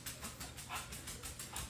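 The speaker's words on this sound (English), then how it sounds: "Sorry about the dogs." Faint dogs bark in quick repeated bursts somewhere in the background, muffled and distant over a low noisy hum.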